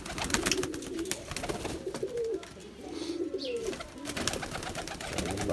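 Domestic pigeons kept by a breeder coo repeatedly in soft low rolling phrases, several overlapping calls close by amid flock rustling and wing sounds, with no talk.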